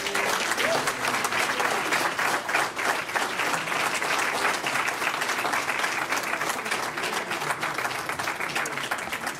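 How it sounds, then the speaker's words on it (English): Audience applause at a library digital archive launch event, a loud, sustained round of clapping from a sizable crowd that holds steady throughout. "Another round of applause, ladies and gentlemen."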